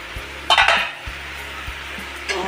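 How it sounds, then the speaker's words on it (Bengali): Spice paste with turmeric frying in a pan and stirred, with close, loud sizzling and several sharp spatula scrapes and clinks against the pan. "এবার এর মধ্যে একটু হলুদ দিয়ে ভালো করে নেড়ে নিল মশলাটাকে।"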